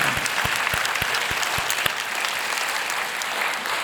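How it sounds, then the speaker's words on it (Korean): A church congregation clapping together during a dawn prayer service, giving glory to God; dense, sustained applause filling the room with a few distinct louder claps near the start, steady throughout and without talk. "다시 한번 하나님께 영광의 박수"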